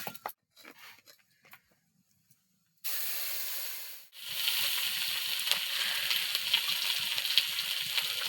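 Radhuni seeds, bay leaf and green chilli hit hot oil with a sudden loud hiss after a few soft kitchen clicks, briefly dipping before settling into a sustained, crackling sizzle close by.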